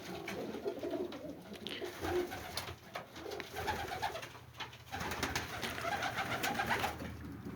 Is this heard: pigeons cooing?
yes